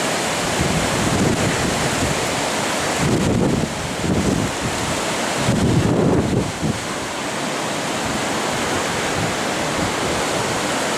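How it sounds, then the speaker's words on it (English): Floodwater of the River Torrens roars steadily just below the Gorge Weir near Adelaide, a loud, unbroken rush with brief surges of heavier churning and some wind buffeting, no voices. "And the river's in flood."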